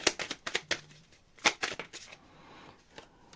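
Tarot cards are shuffled in a quick burst of crisp slaps and riffles, close and fairly quiet, tapering off into softer scattered taps.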